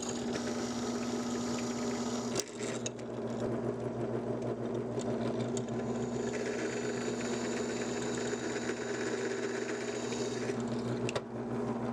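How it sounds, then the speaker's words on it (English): A drill press motor hums steadily with a low drone and grinding whir while drilling scrap steel, continuous and close, with a couple of brief clunks. "Now I'm going to head over to my drill press and start removing material."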